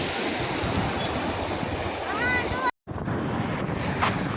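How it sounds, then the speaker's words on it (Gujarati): Water spills over a small dam at the Bhaguda Mogal temple and flows away, a loud continuous roaring rush with wind buffeting the microphone, broken by a brief dropout. "પાણી કેવું પડે છે અહીંથી આમ જાય છે."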